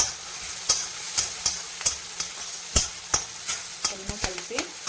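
Tomato and curry leaves sizzle in a pan for a spicy dry fish curry, with a steady hiss of frying broken by regular scraping strokes of a spoon stirring, about a dozen sharp stirs.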